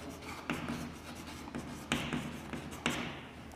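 Marker or chalk writing on a board in a science classroom, a few short scratchy strokes with sharp taps at the start of each, close and fairly loud against faint room noise.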